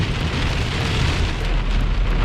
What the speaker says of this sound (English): It's extremely heavy rain, strong winds.